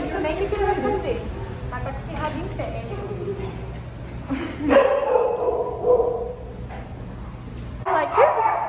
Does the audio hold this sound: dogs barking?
yes